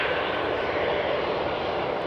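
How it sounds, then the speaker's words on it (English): A KLM Embraer 190 arriving from Humberside roars steadily overhead on approach to Amsterdam Schiphol, its jet engines producing a broad, continuous, loud whoosh that holds even for the whole moment with no other sounds. "KLM flight 1486, Embraer 190 arriving from Humberside"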